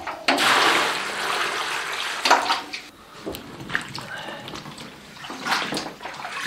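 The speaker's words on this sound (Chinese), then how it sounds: "洗一下豆角。" Tap water runs and splashes in a kitchen sink while green beans are washed, with bursts of gushing flow, sloshing and handling sounds in between.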